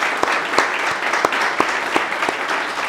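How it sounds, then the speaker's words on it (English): An audience applauds a guest named Sandeep at the close of a consulting conversation, dense, lively clapping with sharp individual claps standing out, continuous for the whole stretch. "Let's have a big round of applause for Sandeep."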